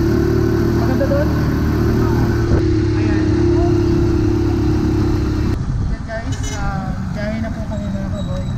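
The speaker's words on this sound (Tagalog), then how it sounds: "so medyo maingay lang gawa na nasa tricycle kami" Riding inside a motor tricycle on a road toward a forest waterfall: a steady, loud mid-pitched engine drone with rattling that eases near the end, with voices talking over it.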